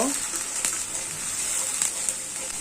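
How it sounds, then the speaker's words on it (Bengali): A spice paste of turmeric, chili, salt and ginger-garlic fries in oil with onion paste: a steady, close sizzling hiss with a few faint stirring knocks. "দিয়ে দিচ্ছি হলুদ, মরিচ, লবণ, আদা রসুন। মশলাটা কষিয়ে নেব।"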